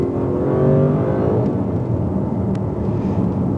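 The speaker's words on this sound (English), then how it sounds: "Just pop it into manual for a second, run it down the gear, so we can bring that V8 in." An Audi RS6 GT V8 revs up sharply on a manual downshift then settles into a lower, rumbling drone as gears drop, close and fairly loud, with no talking.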